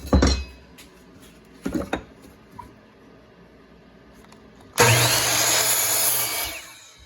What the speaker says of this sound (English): You're going to want to sit your miter saw back up to 0.